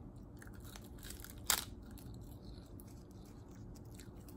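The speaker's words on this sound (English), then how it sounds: "Some seaweed ASMR." A single crisp bite into crunchy dried seaweed, close to the microphone, with faint chewing and crackling before and after over a soft background hiss.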